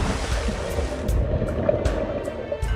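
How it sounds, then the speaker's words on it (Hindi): Sea waves and surf roar steadily at close range after a man jumps into the sea, with wind buffeting throughout and no voices. "इतना कहते ही मेहुल समुद्र में कूद जाता है।"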